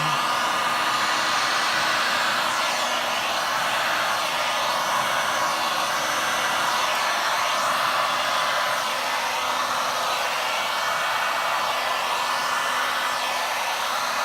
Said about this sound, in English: if you have a heat gun that has more than one setting on it, you can remember that you can turn it on